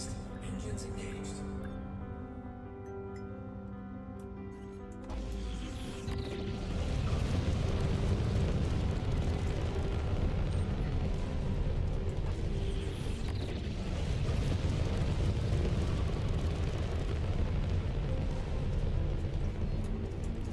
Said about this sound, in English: Ship released. Engines engaged.